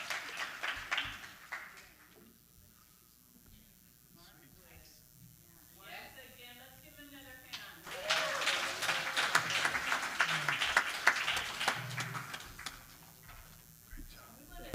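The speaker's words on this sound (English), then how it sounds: "Give this band a nice round of applause," A burst of audience clapping for a band swells in the second half, dense and lively, following quieter stretches with a person talking.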